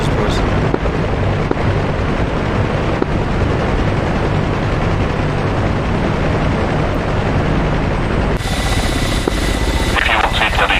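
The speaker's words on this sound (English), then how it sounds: "It's a lot of helicopters, boys." Several helicopters in the combat flight game DCS World hold a steady, dense rotor and engine drone throughout a mountain base strike, loud and continuous, with the tone shifting slightly near the end.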